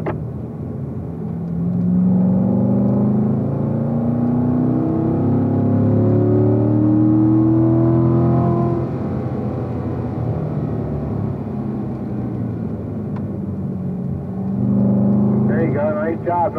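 A car accelerates at full throttle on the Spring Mountain track, a loud close engine roar whose pitch rises steadily before settling into a sustained drone, with a rising whine at the end.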